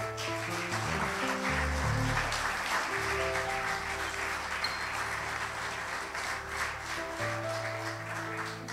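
A church congregation applauds and cheers for the Lord during a service: steady, dense clapping throughout, with sustained keyboard or organ tones underneath.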